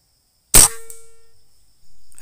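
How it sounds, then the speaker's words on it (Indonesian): Single sharp rifle shot fired at about 50 meters while zeroing a scope, a loud close crack followed by a fading ringing tail, with silence before and after. "Dan akan saya tembak dengan posisi turret atas masih di 40."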